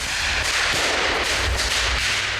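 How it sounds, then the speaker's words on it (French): Combat in a war documentary: heavy, continuous gunfire and bullets whipping past form a dense, loud wash of cracks and noise with no voices. "les balles fusent"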